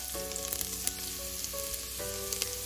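Cumin seeds and finely chopped garlic sizzle in hot oil for a lentil fry, a steady close crackling hiss with faint scattered pops, no voices.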